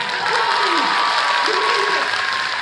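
Steady applause from an anime convention audience at a question-and-answer session, a dense continuous wash of clapping filling the room, with a voice faintly over it.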